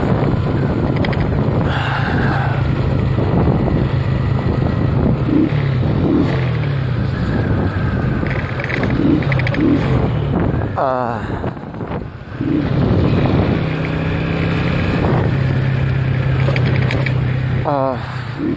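A motorcycle runs through snowy winter weather, its steady engine drone mixed with heavy wind buffeting the microphone, and a rider talks over the ride throughout.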